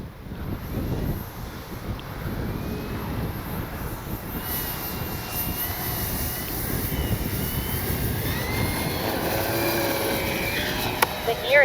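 CNHL Super Tucano RC plane with its engine droning steadily during a takeoff without flaps, under heavy wind buffeting on the microphone in crosswind conditions.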